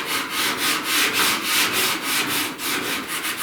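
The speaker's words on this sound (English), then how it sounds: "We'll start to feather this down a little bit with 80 grit." Hand sanding body filler on a truck cab corner dent repair with 80 grit sandpaper, a loud rhythmic rasp of back-and-forth strokes, close and continuous with no talk.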